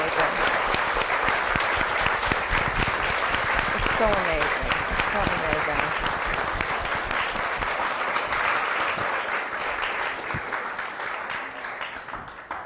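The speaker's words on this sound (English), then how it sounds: "join me and give a round of applause" Sustained audience applause fills a book launch evening, loud and steady from start to finish, with a voice speaking over the clapping partway through.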